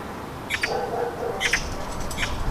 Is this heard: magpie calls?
yes